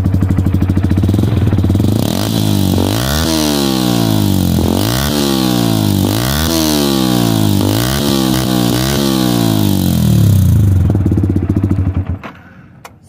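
A Yamaha MT-15 fitted with an SC Project racing exhaust, its valve closed, idles loudly close up, then blips through a rapid series of throttle revs that rise and fall repeatedly with deep bass before dropping back to idle and cutting out.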